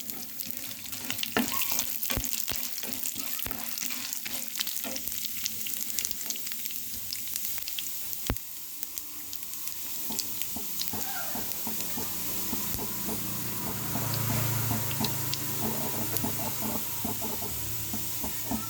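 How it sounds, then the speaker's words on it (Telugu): Chana dal and urad dal frying in hot oil after mustard seeds have popped, a loud continuous hiss with a rushing, water-like texture and scattered sharp crackles and clicks, close up and without speech. "పచ్చిశనగపప్పు అలాగే మినపప్పు ఒక టీ స్పూను వేసి వేయించుకోవాలి"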